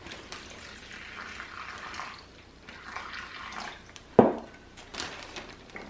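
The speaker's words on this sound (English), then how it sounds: "Open your Ziploc bag and carefully pour in your water." Water poured into a Ziploc bag, a soft close trickle and slosh with crinkling plastic, a sharper splash near the end, quiet and without talk.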